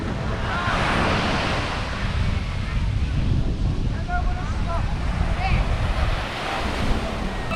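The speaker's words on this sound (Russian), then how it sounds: "Волны сегодня большие, смотрю." Big ocean waves break on a shore in a loud, continuous roar of surf, with heavy wind buffeting the microphone and faint voices talking underneath.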